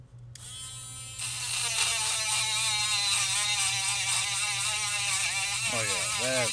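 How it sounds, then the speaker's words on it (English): A sanding wheel spins up and buffs a Lionel 675 locomotive part, a loud, sustained buzzing whine that rises as it starts, holds with fluctuating pitch under contact, then winds down at the end. "Oh yeah, that sanding wheel's ready to go. Let's get it nice and clean."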